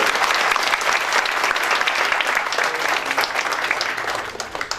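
Dense, loud audience applause fills a hall at a medical talk on bone and knee diseases, a steady wash of many hands clapping that fades slightly at the end.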